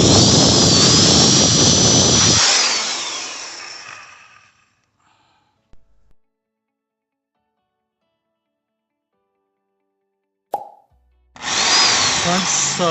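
A power drill bores 1/8 inch holes into a plastic car bumper in two loud, whining bursts. The first burst winds down into near silence, then a brief click sounds and the second burst starts up again.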